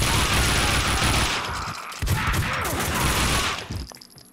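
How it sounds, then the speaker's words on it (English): Heavy gunfire in the video game Max Payne 2, a loud, dense burst of rapid shots and echoing blasts that thins out and fades toward the end. "Someone must have heard the gunfire."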